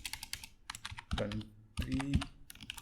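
Bursts of close typing on a computer keyboard during a Laravel coding session, the clicks pausing while someone speaks Hindi briefly in between.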